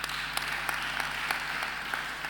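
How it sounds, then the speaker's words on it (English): Applause at a bar association conference session, a moderate wash of clapping with a few sharper individual claps standing out at an even pace. "We'll give her another round of applause."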